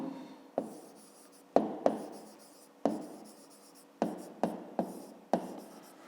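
Pen strokes on paper as a fifth-grade math answer is written down, a series of short scratchy marks at an uneven pace, close and fairly quiet, with no talking.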